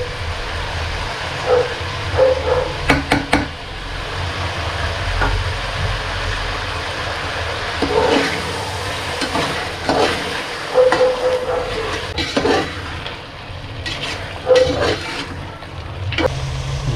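Green masala paste frying and being stirred in a pot for chicken pulao, with a steady low sizzle and intermittent scraping stir strokes, close by and fairly loud, no talking.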